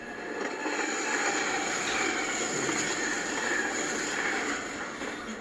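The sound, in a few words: train passing by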